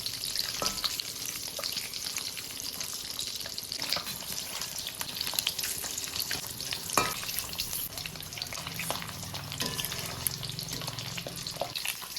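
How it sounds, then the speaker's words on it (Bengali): Eggs fry in hot oil left over from frying eggplant, giving a steady, close crackling sizzle with occasional stirring and no talking. "বেগুন ভাজার তেলেই ডিমগুলো ভেজে নেবো"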